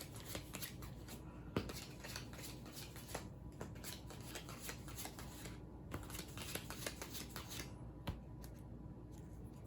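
Playing cards for a board game are dealt out to each player, five apiece, giving faint, quick slapping and sliding snaps in an irregular run, close but quiet, with no talking.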